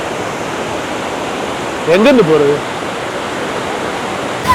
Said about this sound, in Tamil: இந்த வாட்டர் ஃபாலில் தண்ணி கொட்டுறது பார்க்குறதே வந்து ஒரு தெரப்பி மாதிரி தாங்க.